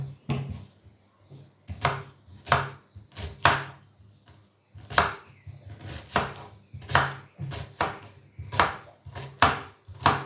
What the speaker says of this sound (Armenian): մենք կտրտում ենք սոխը և պատրաստում ենք աղացած մսով միջուկը